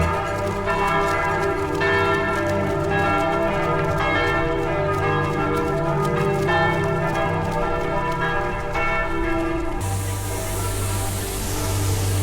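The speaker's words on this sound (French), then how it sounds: "Le concert des cloches." Several church bells peal together during a 10 km road race in Paris, a dense, continuous overlapping clang, loud and sustained, until the ringing cuts off abruptly near the end, leaving only a low background hum.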